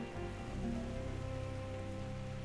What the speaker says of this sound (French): Et bien sûr, ça pleut et moi je vois rien.